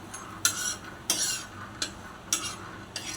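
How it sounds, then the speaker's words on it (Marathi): Half a bowl of peanuts dry-roasting on a hot griddle, stirred in five separate scraping, rattling strokes spaced about half a second to a second apart, close and moderately loud with no talking. "तव्यावर अर्धी वाटी शेंगदाणे खरपूस भाजून घेऊ।"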